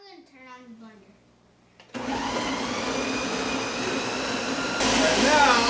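A voice is heard briefly, then a blender whirs on loudly and runs steadily, growing harsher and louder near the end.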